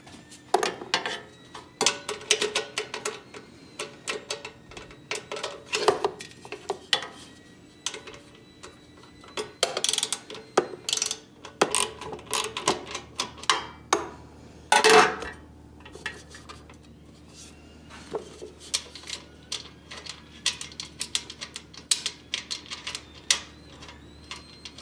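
Rapid metallic ratchet clicks loosening a nut and bolt on a 1966-1979 Honda CT90 motorcycle muffler, near and loud, coming in repeated bursts with clinks of tools between them over about twenty-five seconds.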